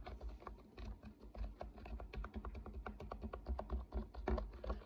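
Rapid, steady clicking of keyboard keys being typed on, close up and continuous, with no voices.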